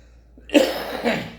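A single short cough bursts out after a moment of quiet, followed by a brief rougher trailing cough sound.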